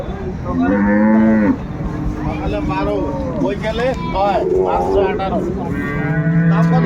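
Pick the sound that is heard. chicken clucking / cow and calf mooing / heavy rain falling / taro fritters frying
cow and calf mooing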